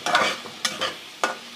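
Colocasia (arbi) leaves frying in oil in a pan, giving three short bursts of sizzling and stirring scrapes with brief quieter gaps between, close and fairly loud with no talking.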